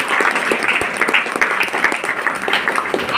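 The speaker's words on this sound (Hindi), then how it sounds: "एक बार जोरदार ताली होना" A large audience breaks into loud, steady applause, a dense wash of many hands clapping close by that holds throughout without pause.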